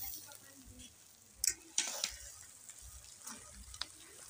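Sauteed potatoes with onions in a pan give a soft, low sizzle broken by a few sharp scrapes and clicks of a stirring utensil, quiet and close.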